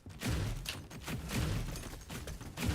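Rapid gunfire from a weapon in the shooter game Valorant, a loud continuous burst of booming shots with thuds repeating across the whole stretch.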